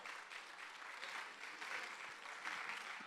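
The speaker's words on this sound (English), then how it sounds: "How about a round of applause if you've completed a marathon?" Audience members at a class survey presentation applaud marathon finishers, a continuous crowd clapping heard faint and distant throughout.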